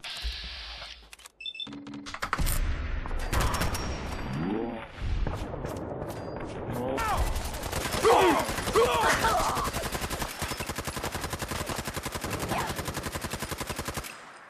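Rapid automatic gunfire in Fallout 4, a long loud stream of evenly spaced shots running for most of the stretch after a few scattered bangs and clicks, with occasional voices.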